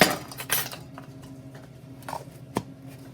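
Salt scooped from a container, leveled off and tipped into a mixing bowl, giving a few light clinks and a soft scrape at the start, then quieter taps.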